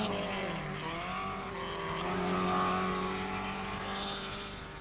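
A rally car from the 1983 RAC Rally races around the Oulton Park circuit in England, its engine droning and revving with steady tonal harmonics, swelling slightly as it passes and then fading.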